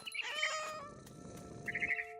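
Cat meows in the video game What Remains of Edith Finch, two short mewing calls at the start and end over a steady low background hum, heard alone without talk.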